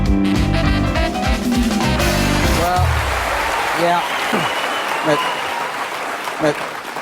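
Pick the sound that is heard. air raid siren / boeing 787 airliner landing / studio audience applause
studio audience applause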